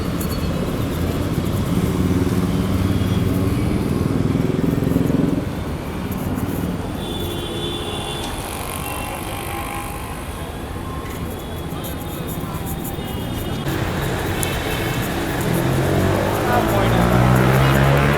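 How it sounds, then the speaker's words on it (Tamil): A golden-coloured MTC P91 AC premium city bus pulls up on a Chennai street, its engine rumbling loud and close amid steady traffic noise, with someone talking over it. "பாருங்க கெத்தாக வருதுங்க நம்ம பஸ்ஸு."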